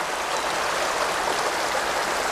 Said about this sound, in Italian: l'ha sfondato e ovviamente l'acqua si riversa tutta in strada